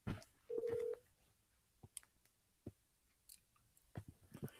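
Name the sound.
telephone dialing tones placing a call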